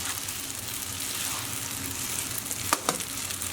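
Spaghetti carbonara and its sauce are tossed in a hot pan, a close steady sizzle broken by two sharp clattering knocks of the pan near the end.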